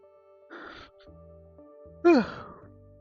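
One person yawns mid-work at a drawing session, starting with a soft breathy exhale and then a louder voiced, falling groan-like stretch near the end, close and quiet overall.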